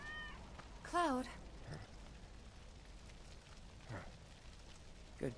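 A cat meows in Final Fantasy VII Remake, one clear close meow near the start followed by fainter, smaller calls later, set against quiet game ambience.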